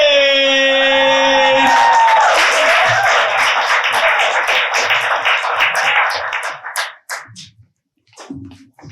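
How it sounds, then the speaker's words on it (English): An audience at a youth poetry slam breaks into loud, sustained clapping with whoops and a cheering tone at the start, thinning out to scattered single claps toward the end. "keep those hands clapping"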